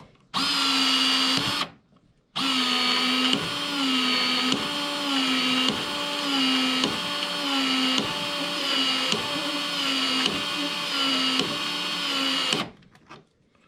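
Uponor PEX-A expansion tool expanding plumbing pipe, a loud close motor whine running in a long burst with repeated rhythmic pulses after a short first run and pause.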